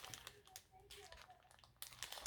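Plastic bag packaging holding small wooden snowmen is opened by hand, giving quiet, close crinkling and rustling in short irregular bursts, with a louder flurry of crackles near the end.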